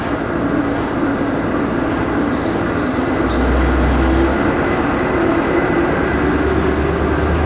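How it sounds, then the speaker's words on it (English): A 100-car freight train hauling for a power plant rumbles past close by in a steady, loud roar of rolling wheels that continues throughout without pause, with no talking. "that's actually a 100-car train. It's a power plant train."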